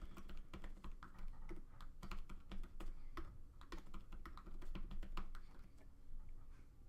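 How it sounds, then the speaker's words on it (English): Typing on a computer keyboard, a quick irregular patter of close, light key clicks running continuously without speech. "And you might just type those out."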